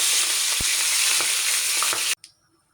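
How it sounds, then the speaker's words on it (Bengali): Rohu fish pieces fry in hot oil with a loud, dense, continuous sizzle and a few crackles, close by, cutting off abruptly near the end. "ভালো করে লাল লাল করে ভেজে নেব।"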